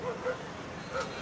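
Stray dogs bark at a police dog in the street: a few short, faint yips and barks in quick succession over low background noise.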